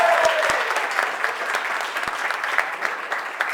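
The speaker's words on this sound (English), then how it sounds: "Let's give him a big round of applause." Wedding guests at a Newport, Rhode Island navy base officers club give a big round of applause for the father of the bride, loud continuous clapping from a crowd with a few sharp thumps.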